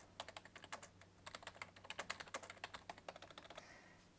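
Typing a reply on a computer keyboard: quick, uneven bursts of close, crisp key clicks with brief pauses between bursts, no talking.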